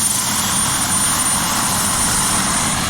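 A helicopter engine runs at an airport, a loud, steady, dense roar that stays constant throughout with no voices.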